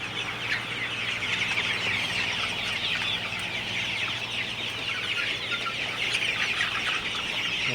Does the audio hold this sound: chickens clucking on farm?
yes